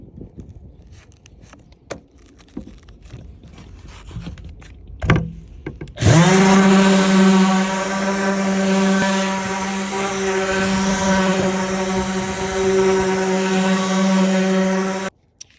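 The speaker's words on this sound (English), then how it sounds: "next step is to take a sander and gently get rid of things like that" A power sander with 120-grit paper smooths wooden shelf boards: a few knocks and handling noises, then a loud, steady motor whine that runs for about nine seconds before cutting off.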